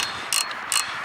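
Two quick ratchet clicks from a large socket ratchet tightening an alternator bolt in a car engine bay, close and crisp with a pause between them, nothing else but faint room noise.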